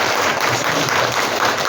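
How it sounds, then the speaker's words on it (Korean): Welcoming applause from a church congregation, a steady, brief burst of clapping filling the room. "환영하는 박수 신나게"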